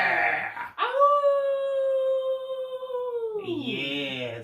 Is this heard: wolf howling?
yes